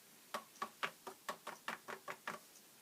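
About ten quick, light taps in an even rhythm, close by, as excess white embossing powder is knocked off a craft piece against a hard surface.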